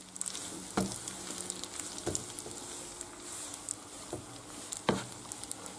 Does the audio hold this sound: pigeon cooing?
no